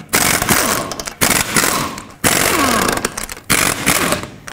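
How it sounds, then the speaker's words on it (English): Lug nuts coming off a 1997-2003 Ford F-150 rear wheel with a 21mm socket on an impact wrench, four loud, close rattling bursts of about a second each with brief gaps between. "21mm socket, take off all 5 of your lug nuts"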